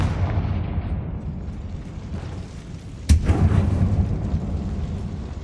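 A Confringo blasting spell explodes in Hogwarts Legacy, a single sharp, loud boom that bursts suddenly and then rumbles away over a low steady game ambience.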